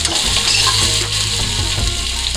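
Potatoes sautéing in a pan for a masala curry, a loud steady sizzle and crackle with occasional stirring scrapes, no talking.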